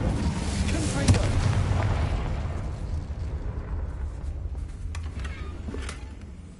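A Confringo blast spell in a wizard video game, a sustained loud roaring explosion with a sharp burst near the start that rumbles and slowly fades, with crackling pops afterward.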